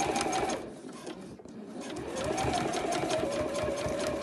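Sewing machine back stitching around the edge of a bag lining pocket, a close rapid whirring run that pauses briefly, then speeds back up into steady continuous stitching.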